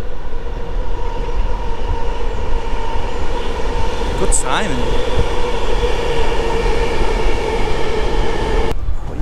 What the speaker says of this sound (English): this is the railway viaduct, and a long train has just gone over there